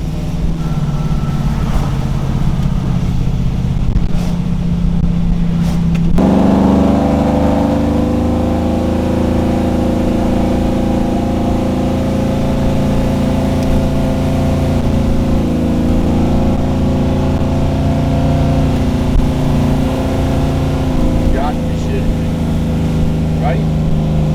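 A Chevrolet Camaro engine laboring up a hill, a steady low drone that climbs in pitch after a gear change, with someone talking over it.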